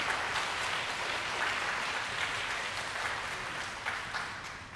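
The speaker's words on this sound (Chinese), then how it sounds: "掌声鼓励一下。" Concert audience applauding steadily, a dense even wash of clapping that holds for the whole stretch and fades slightly near the end, with no voices over it.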